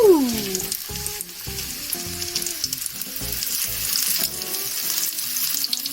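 Fish frying in a hot pan on a home stove, a steady loud sizzle and crackle with occasional sharper pops and spatters, close up and without talk.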